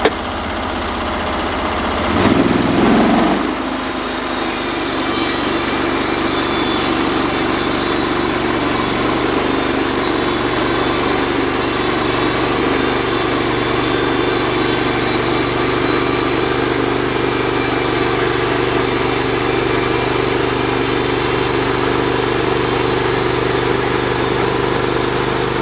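A motor fires up with a brief roar and then settles into a steady, loud, even idle that runs on unchanged, close by, with no talk.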